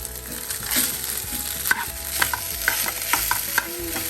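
Rice is stirred in a frying pan for lemon rice over a soft sizzle. A spoon scrapes and knocks against the pan in a run of sharp, irregular taps, close and moderately quiet, with no voices.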